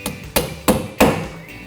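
A hammer-on wheel balance weight is struck onto the outer rim of a wheel locked on a Rotary R544Plus wheel balancer, four sharp close metallic taps evenly spaced with ringing decay.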